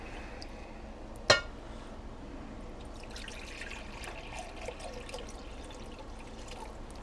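Brine for hot sauce pours into a Ziploc bag with a faint trickle and splash, opened by a single sharp clink early on, all quiet and close with no talking.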